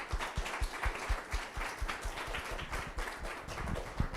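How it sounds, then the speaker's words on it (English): An audience applauds a panel at a conference on the blue economy, steady moderate clapping from many hands with a low rumble of low thuds. "Give them a round of applause."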